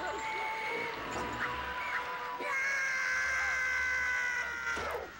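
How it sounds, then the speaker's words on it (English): Sustained wailing screams with rising and falling pitch from a Wii cow-tossing minigame, playing over constant game background sound. "I hope you're ready for screaming. Lots and lots of screaming."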